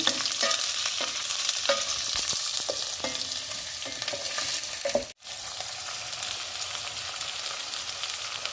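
Curry leaves, green chillies and spices frying in hot oil, a steady close crackling sizzle with repeated stirring knocks and a brief break midway; no talking.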